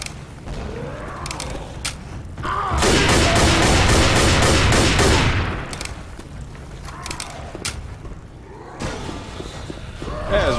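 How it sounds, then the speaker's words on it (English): Rapid bursts of video game gunfire rattle in a sustained volley, then fade to scattered shots and mechanical clatter before another burst near the end. "Bots like to run into gunfire."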